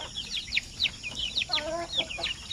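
Sampin chickens, a native Mindanao breed named after the Zamboanga Peninsula, cluck and chirp in a steady scatter of short calls, fairly close and moderately loud over a faint background hum.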